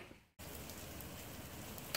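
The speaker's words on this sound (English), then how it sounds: "It's raining." Steady rain falls on a home yard on a morning, its dense hiss starting abruptly after a brief quiet moment and holding evenly for the rest of the clip, close and fairly loud.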